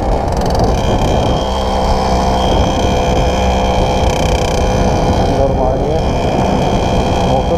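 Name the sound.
Romet Komar two-speed moped engine running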